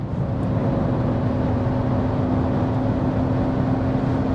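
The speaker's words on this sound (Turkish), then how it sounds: "Çok tatlı da bir motor sesi var." A Porsche Panamera 4's naturally aspirated engine drones steadily at around 180 km/h, a constant humming roar with a low whine, heard from inside the cabin without any talk.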